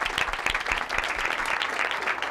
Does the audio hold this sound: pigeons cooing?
no